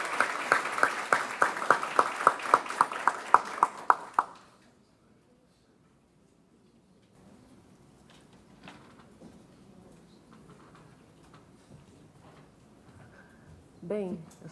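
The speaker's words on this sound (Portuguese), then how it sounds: "Uma salva de palmas para a Crisa Santos e um agradecimento pelo patrocínio." Audience applause at a business forum for the event sponsor, a steady burst of close hand-clapping lasting about four seconds that stops abruptly, followed by quiet room noise and faint movement.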